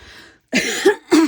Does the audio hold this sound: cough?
yes